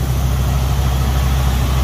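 A Ford Econoline van's engine idles steadily after a performance alternator upgrade, giving a continuous low, even rumble with a constant hum and no talk over it.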